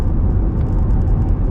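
A car drives along a road near the Ignalina nuclear plant in Lithuania, its steady low engine rumble and road noise filling the short stretch with no break and no talk.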